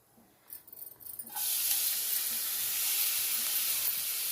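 Radish pieces go into hot oil in a pan for radish chutney. After a few soft clatters, a loud, steady hiss of steam and sizzling starts and keeps going without break.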